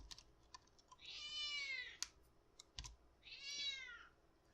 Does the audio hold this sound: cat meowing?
yes